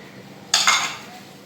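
Ginger garlic paste is added to mutton in a dish: a single short, close metallic clink and scrape of a spoon against the vessel, heard alone in a quiet kitchen.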